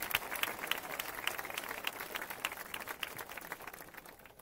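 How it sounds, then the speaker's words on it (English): Applause from a crowd of runners gathered outdoors for a parkrun briefing, steady clapping that fades slightly toward the end, moderately distant. "Can we have a big round of applause"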